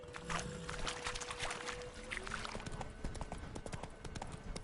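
Hooves of Roach, the horse in The Witcher 3, clip-clopping in a steady quick rhythm close by, mixed with creaks and watery ambient sounds, with no talking.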